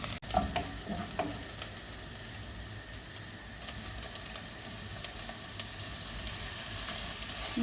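Minced meat frying with onion in a pan, a steady broadband sizzle running the whole time, close and even, with a few faint utensil knocks near the start.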